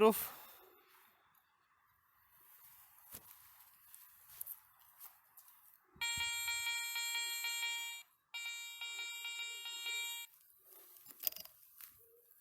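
A Garrett 400i metal detector gives a clear double-gong tone over a one-kopeck coin buried 10 cm deep in soil, two sustained harmonic tones in the middle of the clip, set between quieter handling noise and rustling.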